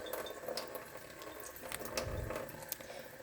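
Water runs steadily from a tap into a sink, a soft continuous splashing hiss with a few small clinks, fairly quiet and without voices.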